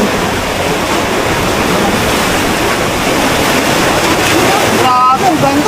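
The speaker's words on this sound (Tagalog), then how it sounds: "Makikita mo na yung mga humahangkat na alon." Ocean waves crash and roar in a constant, loud wash of surf, with wind noise buffeting the microphone throughout.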